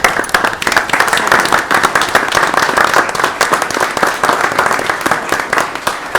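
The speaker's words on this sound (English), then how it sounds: "Let's give her a round of applause." Sharp, close handclaps from a modest audience at a county commission meeting, steady and bright throughout six seconds with no voices over it.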